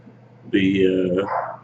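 Puppies give a single short bark-yip up close, a brief bright burst over a quiet background hum, with a voice present in the clip.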